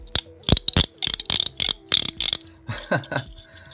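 Corgi E-Type Jaguar toy car with a growler friction motor, its wheels spun to produce loud, close ratcheting growls in several quick bursts, fading into softer rattling at the end.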